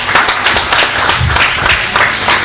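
Audience at a mentalism stage show claps loudly for a volunteer, a close, dense burst of hand claps with rhythmic peaks lasting a couple of seconds.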